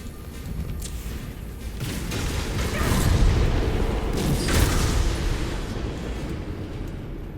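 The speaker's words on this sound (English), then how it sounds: "it kind of seems like standing next to explosions is not good for you" Continuous rumbling booms and crackling blasts from explosions in the video game Dragon Age: Inquisition build and swell, dense and loud, like a steady barrage without pause.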